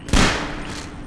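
A single sharp gunshot from a first-person shooter video game cracks close and loud, then fades in a short echoing tail.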